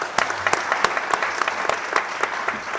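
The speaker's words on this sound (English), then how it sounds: "Can we do some clapping as he comes?" An audience at a Laudato Si' Movement gathering in Kenya claps for an arriving chief guest, a mix of sharp individual claps and a softer patter in a loose rhythm, fairly close and moderately loud.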